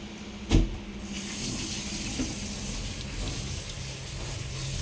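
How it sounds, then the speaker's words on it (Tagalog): Water gushes strongly from a tap in a steady, rushing stream with a brief knock near the start, no voices. "Wow, ang lakas ng tubig ah."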